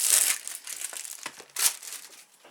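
Sharp bursts of crinkling come from a plastic bag with a sticky sealant being handled during an unboxing, with several separate rustles and crackles over about two seconds. The sound is close and fairly quiet, and nobody speaks.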